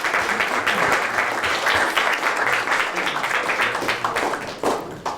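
Audience applause after a student speaker's address at a Washington state legislative event, steady dense clapping sustained throughout at moderate loudness.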